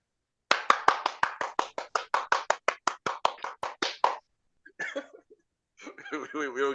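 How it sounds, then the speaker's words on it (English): Quick, crisp hand claps from a small group ring out for a few seconds, then stop, followed by a brief murmur and a voice. "Everybody clap it up for the Mr. Gentleman. Clap that up."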